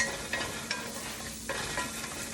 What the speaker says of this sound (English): we're just gonna saute our garlic there for a minute